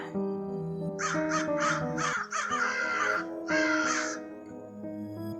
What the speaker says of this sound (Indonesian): setelah terdengar suara burung gagak